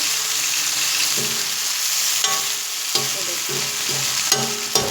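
Kebabs and tikki fry in a hot pan after being flipped, giving a loud continuous sizzle with occasional sharper crackles and spatters, close up and without talk.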